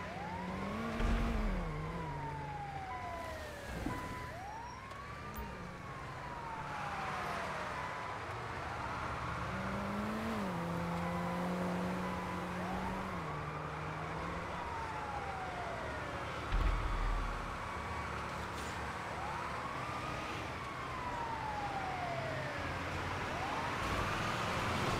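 An ambulance siren passes, with its wail sweeping up and down over and over for the whole stretch. A steady rumble of traffic and engines sits underneath.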